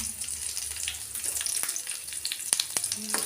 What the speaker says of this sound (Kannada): ಎಣ್ಣೆ ಕಾದ ನಂತರ ಸ್ವಲ್ಪ ಸಾಸಿವೆ, ಅರಿಶಿನ ಬೇಡ, ಆಮೇಲೆ ಹಸಿಮೆಣಸಿನ್ಕಾಯಿ